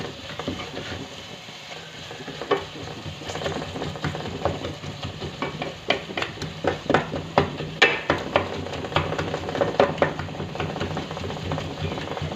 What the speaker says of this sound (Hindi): इसको इसी तरह से थोड़ा सा फ्राई करेंगे